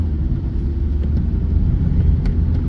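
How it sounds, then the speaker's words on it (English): A Dodge Neon engine idles steadily after starting, a continuous low, close rumble with no voices. "When you crank it, it idles up like it's supposed to"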